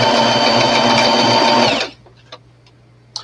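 A sewing machine stitches a doll's dress in a loud, steady, continuous whir that stops abruptly partway through, followed by near silence broken by a couple of faint clicks.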